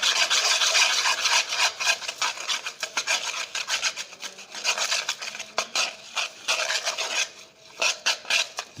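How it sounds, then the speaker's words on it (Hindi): Chicken feed for Aseel roosters, a cheap homemade winter mix, is stirred and mixed by hand, giving a close, continuous rough rubbing and rasping with uneven scraping strokes and no talk. "अब हम इनको अच्छी तरह मिक्स कर देंगे ताकि ये मिक्स हो जाएं"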